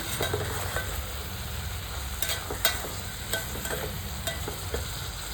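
Ingredients for a sprouted gram curry fry in hot oil with a steady close sizzle, as a spoon stirs and scrapes the pan in irregular clinks, with no talking.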